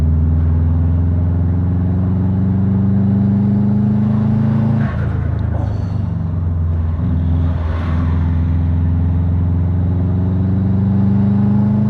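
Close, loud in-car drone of a turbocharged Subaru pulling hard in fourth gear, a steady rising engine tone with a brief dip and shift in pitch midway before the strong pull resumes.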